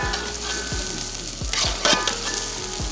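Onions, green chilli paste and tomatoes sizzling steadily in a hot pan, loud and close, with a spoon scraping through the mixture in several slow, regular strokes that bring brief surges of crackle.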